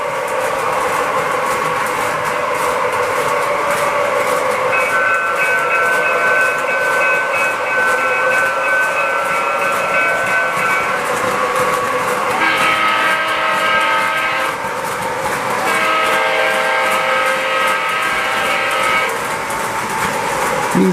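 A continuous diesel locomotive rumble from a small speaker in an O gauge model train using Proto Sound, with a sustained horn-like chord sounding twice before the engine drone resumes.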